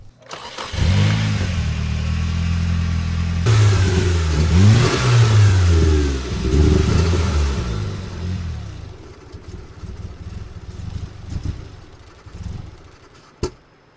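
A Nissan 240SX engine running rich with a freshly cleaned mass airflow sensor, revving hard several times in rising and falling sweeps, then settling into a steady lower idle, close and loud.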